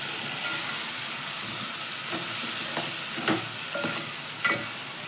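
Mixed vegetables for a traditional Maharashtrian shak bhaji stir-fried in hot oil, a steady close sizzle with a few soft scraping stirs of the spoon, no voices.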